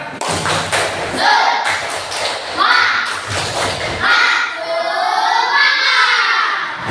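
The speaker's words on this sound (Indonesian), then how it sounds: "Lagi tepuk semangat" Children chant and clap in unison during a classroom greeting, loud bursts of shouted voices with rhythmic claps and thumps repeating in short phrases, close and energetic.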